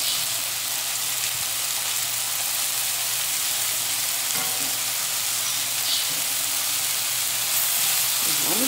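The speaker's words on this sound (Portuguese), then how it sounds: "E o alho tá ali, ó. Fritando, pegando gostinho e cor," Garlic and onion fry in a pan with a loud, continuous sizzle and crackle that stays steady throughout, close up and with no voices over it.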